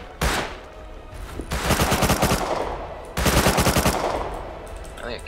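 AK fire in the game Rust, two long bursts of rapid automatic shots preceded by a single shot, loud and close, with brief pauses between them.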